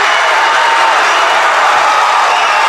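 A high school basketball crowd in a packed gym roars during a sectional semifinal run, a dense, loud, continuous wash of cheering and shouting that holds steady throughout.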